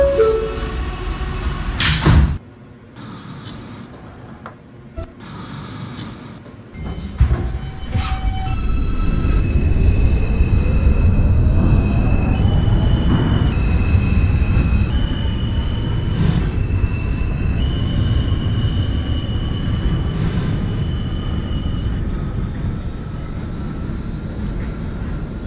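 An NYC Subway R160A Alstom Q local train in the OpenBVE simulator rumbles steadily after early door and chime sounds, with whining motor tones rising and shifting over a continuous loud rolling drone.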